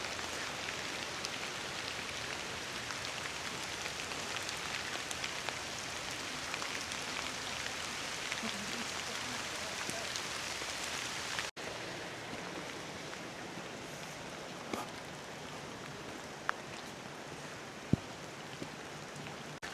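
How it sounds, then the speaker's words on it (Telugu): Light, steady rain falls at Snow Monkey Park in Japan, a soft continuous patter on surfaces with no voices, holding even throughout apart from a few isolated drips near the end. "వర్షం అయితే కొంచెం అంటే తక్కువే పడుతుంది, కానీ ఏంటంటే కాన్స్టెంట్గా పట్టడం వల్ల"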